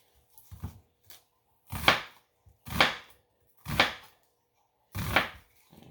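Onions chopped with a knife on a cutting board for a breakfast pastry filling, six or seven distinct thuds at uneven intervals, close and fairly loud, with no voices.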